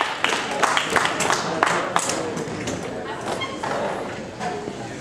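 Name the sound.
audience round of applause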